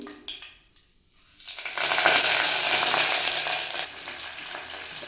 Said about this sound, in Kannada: ಈಗ ನುಗ್ಗೆ ಸೊಪ್ಪು ಹಾಕ್ತೀನಿ.